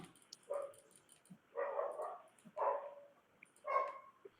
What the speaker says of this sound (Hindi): भाई ये कुत्ते की आवाज कहाँ से आ रही है?